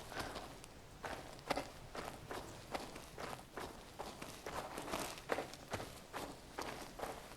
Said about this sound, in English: hopefully you can hear that reverb fading in nicely to the footsteps